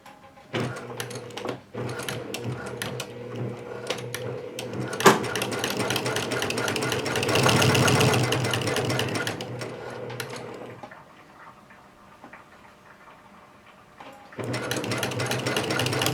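A sewing machine running a quarter-inch seam on a pair of pants: a steady, close mechanical whirr of the needle going for several seconds, a short pause, then stitching again.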